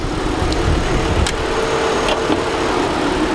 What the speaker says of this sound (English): Now it may be a little engine noise and that coming through at the moment.